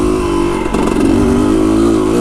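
A Lectron electric motorcycle rides in third gear, lugging along with a loud, steady motor drone that rises briefly midway.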